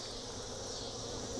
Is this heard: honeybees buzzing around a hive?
yes